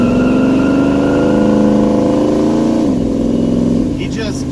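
A 1971 Chevy C10 truck with a new torque converter pulls away from a stop, its engine note droning and rising steadily then easing off, close and loud with someone talking over it.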